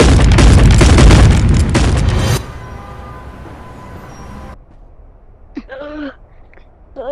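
A loud boom from a gunshot effect in an animated show, a single heavy blast lasting about two seconds that trails into a quieter rumble, followed by a short voice.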